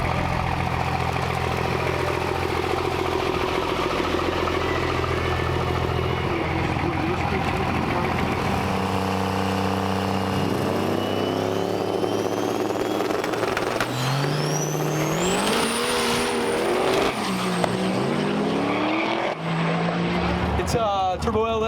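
A turbocharged LS engine in a Chevrolet S10 drag car runs at a no-prep airport drag event: a loud, steady, rumbling drone that climbs into rising revs with a whistling turbo whine near the end.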